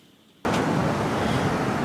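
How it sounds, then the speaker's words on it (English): Autumn surf crashing on a Welsh beach, a loud broadband roar that bursts in suddenly from near silence and stays constant and close, with no talking. "I know you could probably hear the waves crashing behind me"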